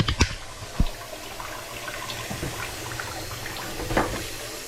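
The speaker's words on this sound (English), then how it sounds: "fill it up again with water" Tap water running into a cooking pot, filled for rinsing goat meat before a Bombay biryani, a steady splashing rush with a few clunks of the pot near the start and close by.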